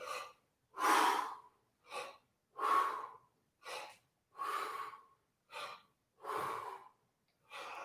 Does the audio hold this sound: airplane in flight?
no